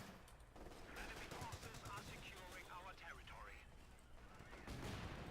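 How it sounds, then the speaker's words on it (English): Mortar and gunfire in the World War II strategy game Company of Heroes 2, US faction in ranked play: a dense, steady battle din of repeated shots and blasts, moderately loud, with a voice speaking over it. "Kill the whole squad there with mortars."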